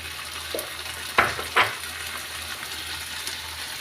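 Squid going into a hot pan for adobo: a low steady frying hiss broken by two sharp splashy clatters as the pieces drop in, then an even sizzle.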